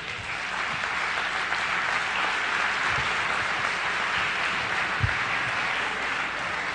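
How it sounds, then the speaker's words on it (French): Lecture audience applauding a speaker, dense sustained clapping from many people, loud and even throughout, with a few sharper individual claps standing out and no talking. "C'est bien que vous applaudissiez"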